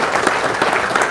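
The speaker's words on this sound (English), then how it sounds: "Big round of applause to our panel." Brief, loud burst of audience applause for a panel at an ethics symposium, dense clapping with no distinct gaps.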